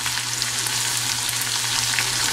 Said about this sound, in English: Saute it well until they get slightly brown color.